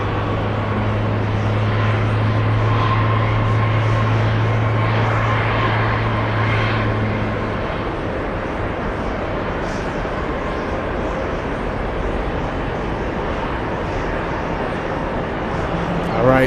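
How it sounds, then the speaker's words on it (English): Swiss airliner's jet engines at JFK airport, a loud, sustained roar with a steady low drone that eases after several seconds, with people talking faintly at times. "we have Swiss about to take off"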